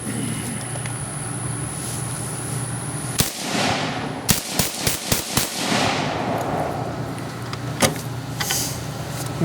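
An FG42 rifle fires full metal jacket rounds, with one sharp shot, then a quick string of about five loud cracks, and a lone later report over steady outdoor background noise.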